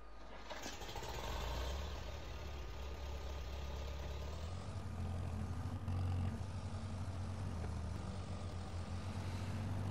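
A Farmall McCormick tractor engine in Farming Simulator 22 runs steadily with a deep, low rumble, revving slightly partway through and droning continuously without pause for the whole stretch, with no talking over it.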